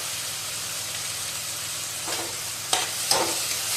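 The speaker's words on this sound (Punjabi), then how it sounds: "ਹੁਣ ਟਮਾਟਰ ਮਿਰਚਾਂ ਪਾ ਦਿੰਨੇ ਤੇ ਇਹਨਾਂ ਨੂੰ ਵੀ ਚੰਗੀ ਤਰ੍ਹਾਂ ਹੁਣ ਭੁੰਨ ਲਵਾਂਗੇ" Tomatoes and chillies sizzle steadily in a hot pan, with a few brief scraping stirs toward the end; no voices.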